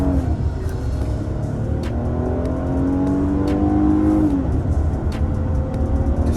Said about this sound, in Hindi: car is going through gears, और इतनी बड़ी एसयूवी और इतनी ज़्यादा पावरफुल